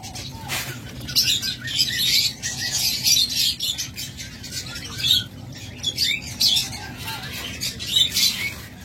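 Many pet lovebirds, cockatiels and budgerigars kept together in a breeding setup chirp and tweet in repeated bursts, a lively, continuous chatter close by.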